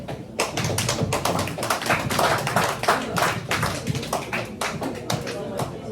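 Applause from an audience at a community newcomers' dinner held by a Ugandan Muslim association in Canada, a dense, steady clapping that fills the room for the whole stretch, with a voice faintly underneath.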